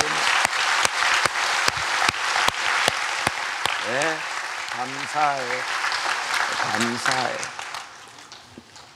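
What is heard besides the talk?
congregation applause of encouragement for youth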